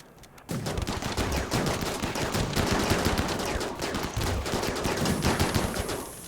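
Automated turrets in RimWorld blaze away in dense, continuous bursts of rapid gunfire that stay loud and close for several seconds after a quiet opening.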